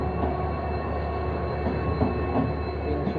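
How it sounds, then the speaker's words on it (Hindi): Idling Siliguri shed WDP4 EMD diesel locomotive hauling the Tinsukia–Lumding passenger train, a steady low engine rumble with rail and carriage noise continuing throughout, no voices. "ये सिलीगुड़ी शेड का WDP4 है"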